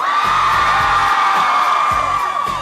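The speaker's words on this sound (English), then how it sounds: "you can cheer for each of them" A loud crowd at the Backstreet Boys' Hollywood Walk of Fame star ceremony whoops and cheers with sustained high-pitched shouting, while an announcer speaks briefly underneath.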